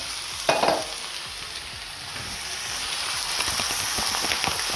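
Callaloo being stirred in a hot pan, with a steady sizzle and frying crackle under scraping spoon strokes, one brief louder clatter near the start, no talking.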